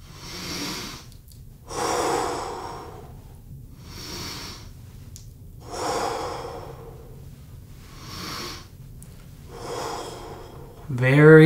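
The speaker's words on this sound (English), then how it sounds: "keep breathing while you hold it" Slow, audible breathing during an arm-stretching exercise in a children's karate lesson, with long drawn inhales and exhales in a steady rhythm of about five breaths, close and fairly soft, ending with a brief noise.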